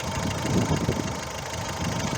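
The 1.6-litre diesel engine of a 2011 Mazda 3 idles steadily and evenly up close, a low continuous rumble with no voices.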